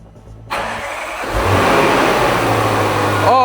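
After a moment of quiet, a car engine cranks and catches, then settles into a loud, steady running rumble close by.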